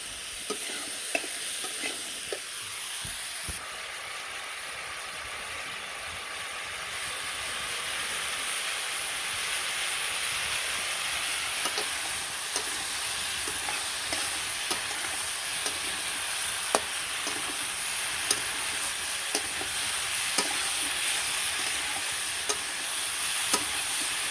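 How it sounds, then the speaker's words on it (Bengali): Fried fish pieces with potato and cauliflower being sautéed in a pan, a loud continuous sizzle with scraping stirring strokes throughout, rising after the first few seconds and close by, with no talking. "মাছ ভেজে আলু আর কপিতে কষিয়ে নেবে"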